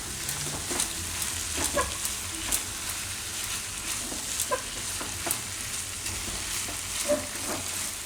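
Soya paneer bhurji frying in a pan with steady stirring, a constant sizzle underneath and regular scraping knocks of the spoon against the pan, close and moderately loud throughout.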